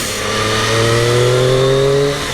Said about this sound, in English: But this exhaust note is tremendous.